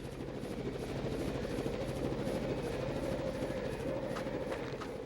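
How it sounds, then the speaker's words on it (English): A video game helicopter (Raw Danger) taking off, its rotor chopping steadily at close range, a loud continuous thudding drone with engine whine that holds level throughout. "The mayor's helicopter takes off."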